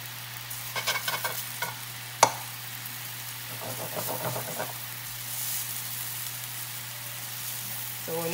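Eggs frying in butter in a pan for fried rice, with a soft steady sizzle under intermittent scraping stir strokes and one sharp clack of a utensil against the pan, no talking.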